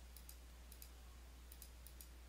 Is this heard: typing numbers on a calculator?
yes